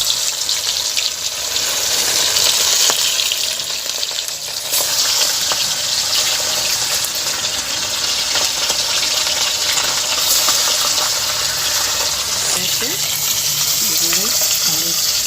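Fish frying in hot oil for a tamarind bata fish curry, a dense, steady crackle and hiss that holds loud and close throughout.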